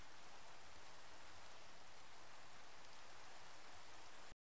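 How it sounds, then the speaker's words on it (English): Steady rain falls in Minecraft, a soft, even hiss of dense drops that runs without change before cutting off abruptly. "It's raining!"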